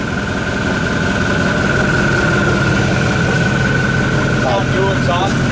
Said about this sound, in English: Dual exhaust, that sounds pretty good too.